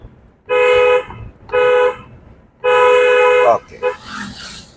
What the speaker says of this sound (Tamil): ஹாரன்.